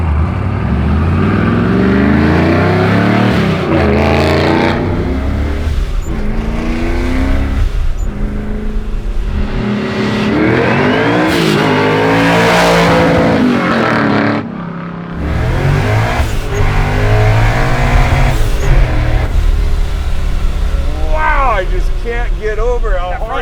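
A 1000hp Procharged Ford F100 truck accelerating hard and shredding its tires, loud engine roar rising and falling in repeated revving sweeps, with people talking over it.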